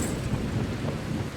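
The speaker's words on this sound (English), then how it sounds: "Oh, that's a thunderstorm." A thunderstorm in the video game Dying Light, a steady, dense rumble of rain and wind with a low thunder roll underneath, loud and continuous throughout the short stretch.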